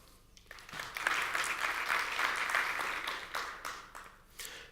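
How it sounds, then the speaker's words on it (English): Audience applause after a talk, a steady wash of clapping across the room that swells and then tapers off over several seconds. "Give these guys a round of applause"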